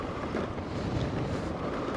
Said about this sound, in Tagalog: Medyo malakas lang yung hangin